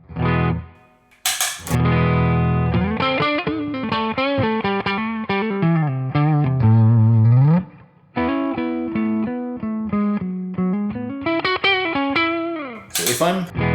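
An electric guitar played through a boost effect on a NUX Cerberus preset rings out in distorted chords and sustained single-note runs, loud and close, with pauses between phrases and a bent note gliding upward near the middle.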